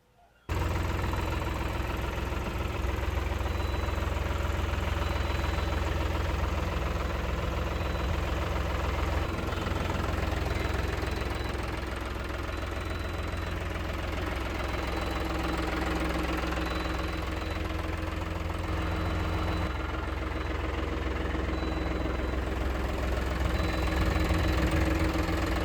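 A 2022 four-wheel-drive 48 HP tractor engine idling, a steady low diesel rumble with faint knocking that holds constant and close throughout, without speech.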